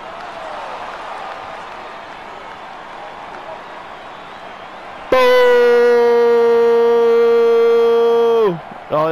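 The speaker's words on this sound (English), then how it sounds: "Blow the siren, ladies and gentlemen." A loud, steady siren blast in a football video game arrives abruptly over a low crowd murmur, holds a sustained tone for several seconds, then drops away sharply.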